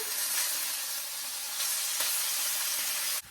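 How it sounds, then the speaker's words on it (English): Potatoes simmering with almond milk in a pan give a steady, close sizzling hiss that holds evenly throughout and cuts off sharply at the end. "When there's almond milk in there and it's simmering with the potatoes and stuff, it smells so good"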